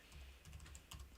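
Quick, light clicks of typing on a computer keyboard in short bursts, quiet and fairly close, with no talking.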